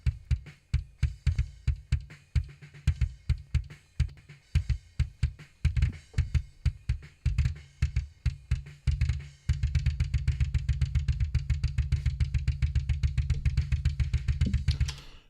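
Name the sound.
drum track playback with EQ on the kick drum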